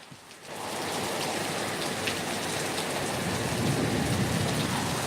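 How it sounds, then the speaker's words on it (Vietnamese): Heavy rain pours down in a dense, loud, roaring hiss that rises abruptly after a quiet half-second and stays steady and close, with no voices over it. "Trời mưa rất là lớn"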